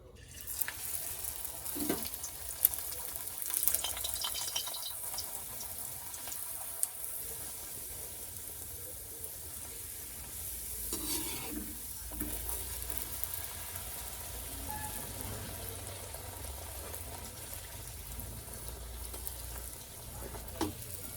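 Luchi fry in hot oil in a home kitchen, a faint, continuous sizzle with occasional soft clinks and stirring sounds, heard at a low level without talk.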